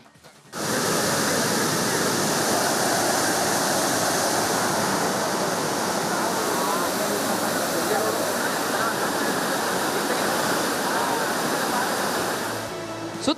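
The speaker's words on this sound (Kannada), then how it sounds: "ಮಲ್ಲಳ್ಳಿ ಜಲಪಾತ ಟೂರಿಸ್ಟ್ಗಳ ಹಾಟ್ ಸ್ಪಾಟ್ ಆಗಿದೆ" Mallalli waterfall in Kodagu, swollen by heavy monsoon rain amid the hills of the Pushpagiri wildlife sanctuary, roars in a loud, steady, broad rush of falling water that fades in at the start and holds without a break.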